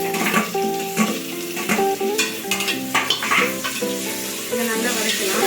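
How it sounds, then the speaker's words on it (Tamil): Two medium tomatoes sauté in oil in a pan after onions, stirred with a spoon through a steady crackling sizzle, with utensil scrapes and clinks over background music. "இதை நல்லா வதக்கலாம்."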